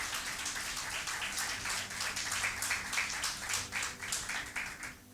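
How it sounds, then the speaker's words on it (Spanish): A church congregation claps for the Lord after a call to applaud, a steady wash of many hands at moderate distance, continuous for several seconds with no talk. "dele un aplauso al Señor"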